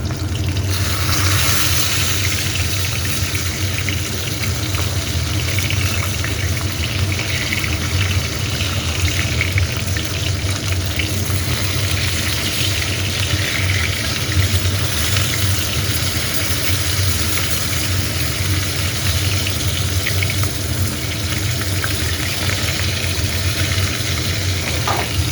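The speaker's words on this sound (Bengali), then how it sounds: "চুনো মাছ ভাজতে দিয়েছি, এখানে কটা মাছ ভেজে তুলে রেখেছি" Small chuno fish fry in hot oil in a pan with potatoes and garlic, a steady close sizzle and crackle that runs without pause throughout, with occasional faint stirring.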